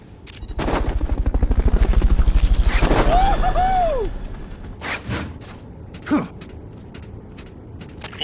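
A Fulton recovery helicopter in Metal Gear Solid Peace Walker thunders in with rapid rotor thumping for a few seconds, then fades, followed by scattered sharp in-game bursts.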